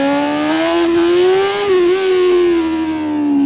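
A 2025 BMW S1000RR motorcycle fitted with a full titanium Akrapovic exhaust revs hard and close, its loud, steady engine note rising in pitch and holding high before dipping slightly.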